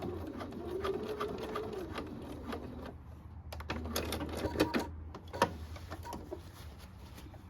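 A sewing machine stitches a jeans hem with thick thread, overlapping the starting stitches: a steady low motor whir at first, then a quieter stretch broken by scattered sharp clicks and knocks, all close by.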